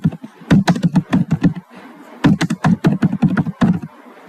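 Typing on a computer keyboard while filling in an online university admission form, two quick bursts of close, crisp key clicks separated by a short pause.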